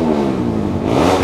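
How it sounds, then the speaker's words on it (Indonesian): A supermoto race motorcycle revving hard in the paddock at a national championship round, a loud, close engine note that rises in pitch toward the end, with no voices. "ini motor tunggangan dari Wawan Tembong yang kita ketemu tadi awal-awal kemarin"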